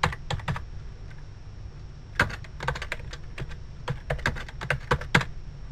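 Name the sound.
typing on a computer keyboard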